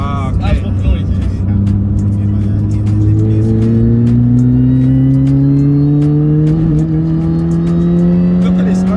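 Supercharger whine from a 250 bhp supercharged 1.6 Mini Cooper S R53, a loud, continuous tonal whine rising steadily in pitch as the car accelerates hard, over heavy engine and road roar.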